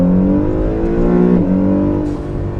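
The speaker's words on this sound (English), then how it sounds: "Could you hear that blow off in the exhaust and stuff stock, or was it too tame for you?" A modified 700 hp Acura NSX with aftermarket exhaust and blow-off valve roars nearby at high revs, its pitch sliding as it shifts, with a brief hiss near the middle and another toward the end.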